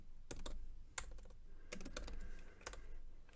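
A computer keyboard typed in short bursts while a git clone command is entered, crisp close keystrokes in a few quick clusters over a low background hum, no talking.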